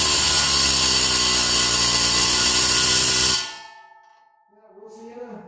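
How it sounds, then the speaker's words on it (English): A cheap Harbor Freight air hammer fitted with a chisel drives pins out of a John Deere 202 plow, a loud continuous pneumatic rattle for about three seconds that cuts off abruptly, followed by quiet shop noise. "I bought this air hammer for 20 bucks and a set of their cheap chisels for 7 bucks"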